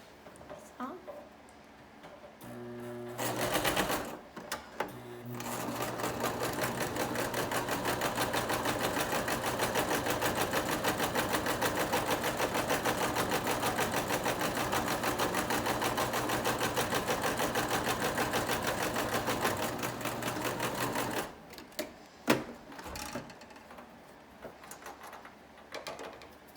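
Sewing machine running steadily for about twenty seconds while stitching fleece mittens with a basic stitch and quarter-inch seams, a continuous close motor whir with a fast needle rhythm, bracketed by brief handling noises.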